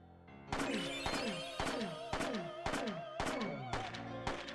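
Gunshots in the video game Parasite Eve, eight evenly spaced shots in a steady rhythm. Each has a sharp crack and a ringing, decaying tail, and all are moderately loud.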